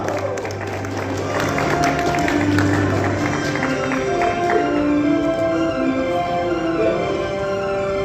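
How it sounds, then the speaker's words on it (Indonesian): A hall audience applauds for Kota Kupang at a 2024 BKKBN NTT provincial family-planning program meeting: steady, dense clapping throughout, with sustained tones of background music underneath. "Kita berikan tepuk tangan untuk Kota Kupang"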